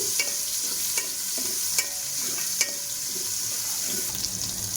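Mutton head curry frying in a pan: a continuous close hiss and sizzle with occasional soft clinks and stirring scrapes, steady throughout and with no talking.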